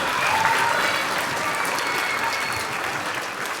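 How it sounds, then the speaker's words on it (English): A theatre audience at a reading-program launch claps for the event's sponsors, a broad, sustained round of applause that stays loud throughout and tapers only slightly toward the end. "let's give them a big old round of applause for making this happen"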